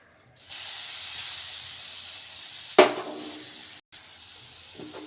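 Carrots hit hot melted butter in a pan with a sudden sizzle, a steady hiss of frying continuing alone afterward with a brief spike as they land.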